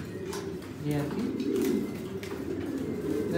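Pigeons cooing in a breeding loft of about seventy pairs, several overlapping soft throaty coos repeating close by, with faint rustling and chirps in the background.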